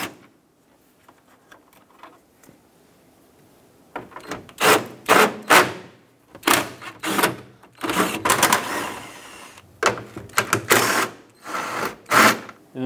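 A power ratchet or driver spins off the six 10mm nuts along the top of a 2009-2014 Ford F-150 front grille, giving repeated short, close whirring bursts with pauses between each nut.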